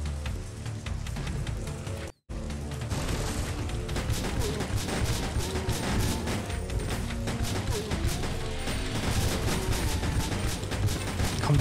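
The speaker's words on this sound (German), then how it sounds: "Komm, die ballern wir weg" Gunfire in the video game Resident Evil Survivor 2 Code: Veronica, a dense, continuous barrage of shots and crashes running loud throughout, with a brief dropout near the start.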